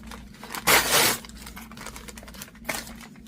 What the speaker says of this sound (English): Why is the paper so hard to tear?